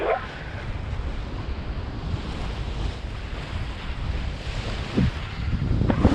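Sea waves wash and wind rushes past steadily while sailing single-handed across Cardigan Bay in Wales, a continuous broadband roar with occasional splashes and gusts buffeting the microphone, with no voices.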